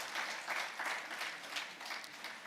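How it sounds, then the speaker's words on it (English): Steady audience clapping at a business presentation fills the clip, dense and even with slight swells, with no voices over it. "Let's clap for that, please."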